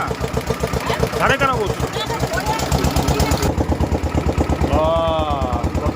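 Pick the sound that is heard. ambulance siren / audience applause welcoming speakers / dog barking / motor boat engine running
motor boat engine running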